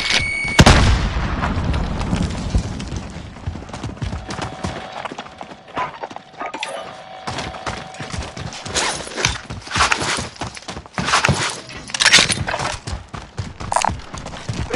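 Grenade blast in a military shooter video game, one sharp boom near the start followed by a stretch of scattered gunfire and impacts, with no talk over it.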